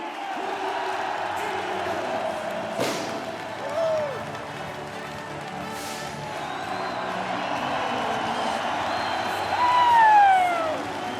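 Home crowd at a full arena roars and cheers as Frolunda hockey club are crowned CHL champions, a steady wash of crowd noise with whoops, clapping and a swell of cheering near the end.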